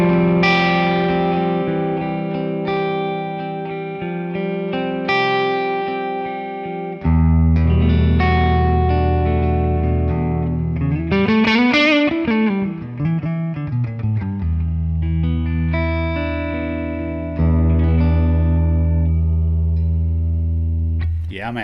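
Electric guitar played through a ToneX amp model with plate reverb, loud and sustained with chords and a bending lead line washed in lush reverb, played alone with no talk.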